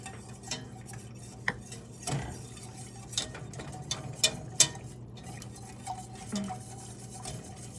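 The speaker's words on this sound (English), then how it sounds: "Just whisking with one hand and adding a little bit of flour at a time with the other hand." A whisk stirs flour into a sauce for venison cottage pie, giving soft, irregular scraping and light metallic clinks against the pan, close by and fairly quiet, with no talking.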